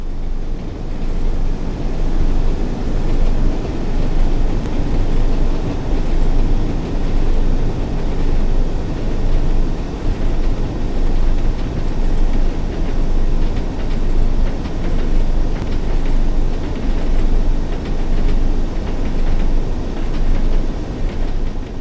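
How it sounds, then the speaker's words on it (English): A Class 101 diesel mechanical multiple unit with a geared transmission runs on the Northern Trans-Pennine route in the Train Sim World game, giving a steady, loud, continuous rumble throughout with no voices. "This Class 101 diesel mechanical multiple unit features a geared transmission"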